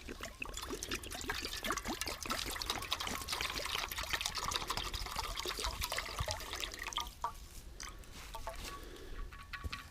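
Water pours steadily into a camping pot outdoors in winter, gurgling and splashing up close, then tapers to a trickle.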